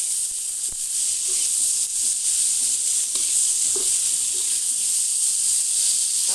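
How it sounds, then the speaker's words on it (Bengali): Thin-cut potatoes and eggplant frying in hot oil, a steady loud sizzle close by with occasional stirring clicks and no talking. "আলু আর বেগুন ভাজা নিতেছি"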